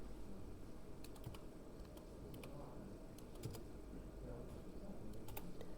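A PIN is typed on a computer keyboard as a few scattered, quiet key clicks over a steady low room hum, with no talking.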